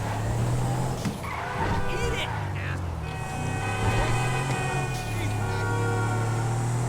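Car in GTA 5 driving with a low engine rumble and tire skids, steady and moderately loud, with someone talking over it throughout.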